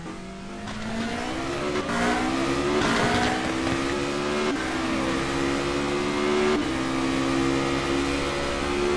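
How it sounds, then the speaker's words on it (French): A 2015 Formula Renault race car brakes hard into turn 11 at the Montreal circuit. Its loud, close, high-pitched engine drops through several quick downshift blips as it slows, with a faint squeal of tyres. "Et le fameux virage numéro 11, très gros freinage."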